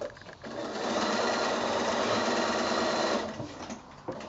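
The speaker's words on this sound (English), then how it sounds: "So I'll go to the sewing machine and we'll sew that little short." A sewing machine stitches a short seam on a quilt block, its motor whirring steadily at close range for a few seconds before slowing and stopping, with faint handling noise at the start and end.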